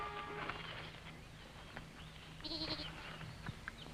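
A goat bleats near a hammock among baobab trees, with a short higher bleat around the middle over a steady low background rumble.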